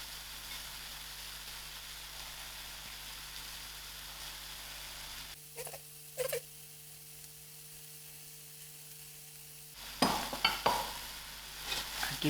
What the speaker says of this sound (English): give it a good stir and allow it to melt